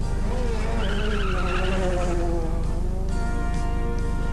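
A Lancia Delta S4 rally car engine roars steadily at high revs, with a sweeping rising and falling whine as it speeds past, loud and continuous, at the 1986 24 Hours of Ypres rally.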